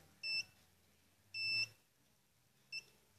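Three short electronic beeps from a metal detector pinpointer held near a case, two longer and one brief, sounding close and clear over a quiet background.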